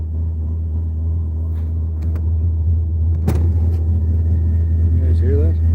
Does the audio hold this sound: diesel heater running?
yes